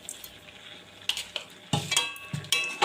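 A spoon stirs and scrapes in a pan as pumpkin curry sautés with coconut paste and a spoonful of sugar, several sharp clinks and scrapes over a faint sizzle, close and alone.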